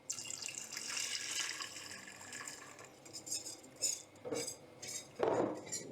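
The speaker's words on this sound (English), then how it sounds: "now I'm going in with some of the drippings. And some of the broth." Turkey drippings and broth pour into a pan as a close splashing liquid stream with clinks of metal and cookware, fading into a few scattered clatters.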